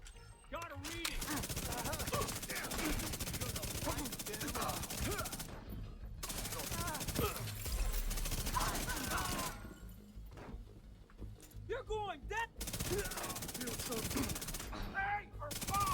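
Rapid automatic fire from the Chatterbox gun in The Division 2 video game, long loud bursts of sharp repeated shots separated by short pauses, with faint game effects between bursts.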